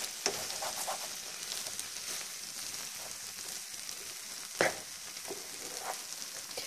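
A spatula scrapes the bottom of a pan as lardons fry, a steady sizzle broken by scraping strokes and a sharper clack near the end, close and moderately quiet, with no voices.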